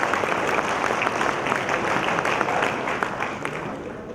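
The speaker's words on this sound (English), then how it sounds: "A big round of applause for the PMT team." Audience applause for a project team at a corporate session, many hands clapping in a dense, steady patter that holds evenly for several seconds and tapers slightly at the end.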